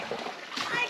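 Children splash in a farm creek, a brief burst of close water splatter and sloshing mixed with kids' voices talking.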